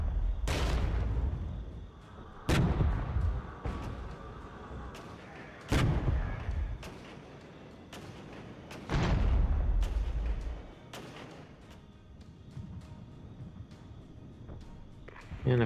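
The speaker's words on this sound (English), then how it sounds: "Bunch of noobs shooting at targets." Gunfire in the Regiments video game, heavy booming artillery-like shots and rolling volleys at irregular intervals, each loud blast decaying into a rumbling tail, with no talking.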